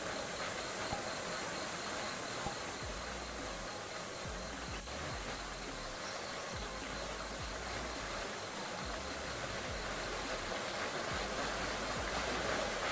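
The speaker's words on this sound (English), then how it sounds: "And that big waterfall." Big, loud waterfall in a glowing game world, a dense, unbroken rushing roar that holds steady throughout with no voices over it.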